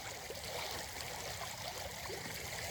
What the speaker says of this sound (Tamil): எவ்வளோ ஸ்பீடாக வருது பாருங்கள் தண்ணி